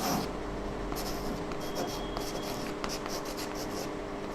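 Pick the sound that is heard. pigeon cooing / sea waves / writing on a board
writing on a board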